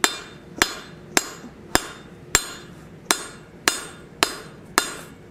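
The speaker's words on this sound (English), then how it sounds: "we're just going to hammer down on the front and the back" Regular, sharp metallic hammer strikes on steel over an anvil ring out about every half second while forging a repousse ball stake, each hit clanging with a brief ringing decay, no talking.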